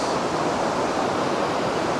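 Broadband rushing water from a stream flowing toward a hidden waterfall in Ontario, a steady, dense roar filling the whole clip with no voices.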